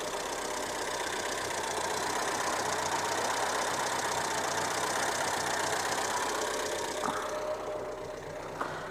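A Renault 11 GTL's C1J engine idles unevenly and misfires, a steady close mechanical drone with irregular skips and no talking.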